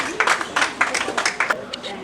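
An audience claps to welcome a doctor onto the stage at a talk on diabetes and nutrition, with scattered, uneven hand claps and a murmur of voices over about two seconds.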